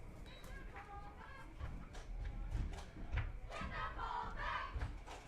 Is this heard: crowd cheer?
yes